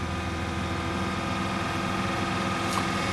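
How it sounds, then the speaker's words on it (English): A 2005 Honda Civic Hybrid engine held at high revs, about 2500 RPM, giving a steady, loud, unbroken drone with no talk. "I'm still running the engine on high RPM,"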